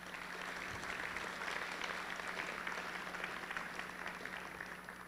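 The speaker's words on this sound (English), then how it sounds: "Let's give them a round of applause" A crowd of students and parents at a school pep rally applauds steadily and evenly throughout, a dense wash of clapping heard from a distance.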